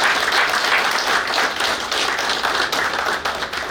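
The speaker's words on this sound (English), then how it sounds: "May we please give him another round of applause." Dense, sustained applause from an audience at a naval warfare course graduation ceremony, steady and loud across the whole stretch.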